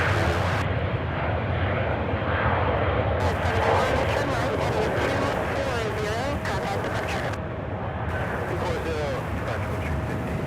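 A plane at Charlotte Douglas International Airport roars loudly and steadily throughout, with a rising and falling engine whine over dense low rumble.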